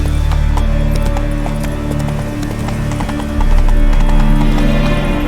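Roach, the horse in The Witcher 3: Wild Hunt, gallops with a loud, steady clip-clop of hooves over a low game hum, the pace picking up and growing louder toward the end.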